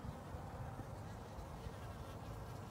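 A low, continuous buzzing of honey bees in spring hums close by, steady with slight fluctuations, alone without speech.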